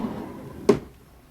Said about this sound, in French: Là, elle ouvre le tiroir cochon de Jim.